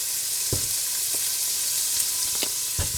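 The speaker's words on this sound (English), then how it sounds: "This is some bacon ends and pieces that I'm just going to render the fat and get them browned up a bit." Bacon ends and pieces rendering their fat in a pan give a steady, close, bright sizzle, broken by a few soft clinks of a utensil stirring.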